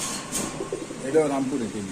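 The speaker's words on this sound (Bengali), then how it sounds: "এই কবুতরটা দেখেন" Soft pigeon coos sound close by, low rounded warbling notes over quiet background murmur, with a faint voice mixed in.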